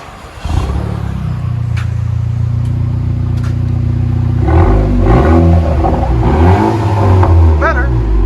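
Straight-piped dual exhaust on a 2019 Honda Accord 2.0 Sport Turbo revving close up, a steady idle rumble rising into several sharp throttle blips with wavering pitch sweeps, loud and alone without talk.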